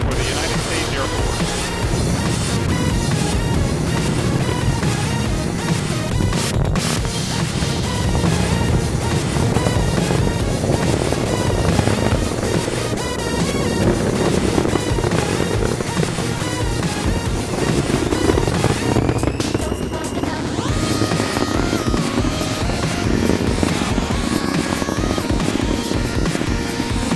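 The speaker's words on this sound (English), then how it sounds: "Atlas engine ignition, 0, and liftoff of the United Launch Alliance Atlas V rocket carrying AEHF-2 for the United States Air Force" United Launch Alliance Atlas V rocket lifting off with the AEHF-2 satellite for the United States Air Force, a loud, sustained broadband roar that rumbles steadily throughout, with no voices heard.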